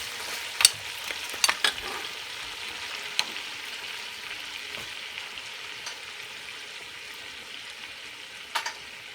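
Beef fries in hot oil in a pot for a Guyanese pepper pot, giving a steady soft sizzle. A few sharp clinks of stirring sound up close, and there is no talking.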